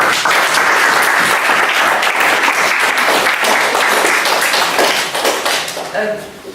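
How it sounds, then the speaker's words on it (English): A room full of people at a talk on homelessness gives a warm round of applause, loud, dense clapping that holds steady for several seconds and then tapers off, with a voice rising at the end. "please give Ramiz a very warm, very big round of applause for all he's done for City Circle"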